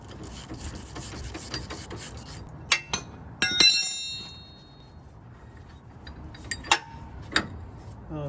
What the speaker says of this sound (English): I'm getting onto it with a big gear wrench, 27mm box end wrench, and then I'm working a ratchet on the other side with a deep 27mm